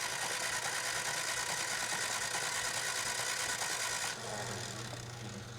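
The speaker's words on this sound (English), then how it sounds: "let's go ahead and give it a few cranks" A car engine cranks steadily on the starter during a compression test, oil spraying from the open cylinders into a held rag, a loud continuous whirring drone that drops in pitch and level near the end.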